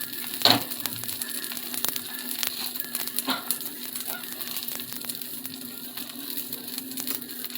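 Tomato dosa batter sizzles in oil on a hot pan, a soft crackling hiss close up with a few sharper pops and clicks early on.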